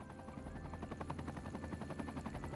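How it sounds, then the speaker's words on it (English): A fleet of four helicopters in the city-building game Cities: Skylines 2, their rotors thumping in a loud, rapid, steady beat that fills the whole stretch with no talk over it. "A fleet of helicopters. Oh my god, it's so loud."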